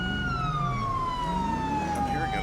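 Police siren from the FiveM video game, a steady wailing tone sliding slowly downward over low vehicle rumble, fairly loud and continuous throughout.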